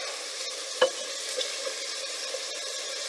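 Onions sizzling in olive oil in a pan, a steady close crackle and hiss with one sharp clack of a utensil early on and light stirring scrapes, no talking.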